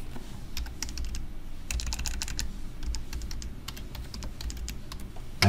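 Password being typed on a computer keyboard during a SQL Server 2022 Express install, a steady run of close, crisp keystrokes with short pauses, no talking.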